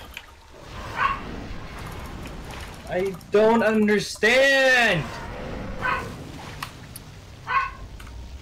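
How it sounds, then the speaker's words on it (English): A dog barks and whimpers in the background during a PC Harry Potter 4 game session, giving a few short yips among steady room noise while someone talks over it. "This dog, please shut up."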